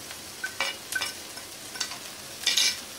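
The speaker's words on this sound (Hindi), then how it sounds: "प्याज थोड़ा भून चुका है, अब मैं इसमें शिमला मिर्च भी डाल रही हूँ।" Onion and bell pepper sauté in a pan, a soft sizzle broken by several sharp scraping stirs of a spoon, close and fairly quiet, with no talking.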